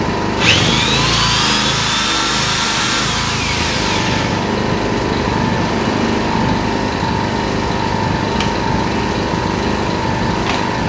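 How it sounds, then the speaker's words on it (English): A Yamaha EF1000is portable generator drones steadily and loudly under load throughout. A high whining drill runs over it for the first few seconds, then stops, and the generator's RPM rises slightly with the load. "Under load, it increases the actual RPMs a little bit to be able to generate more electricity"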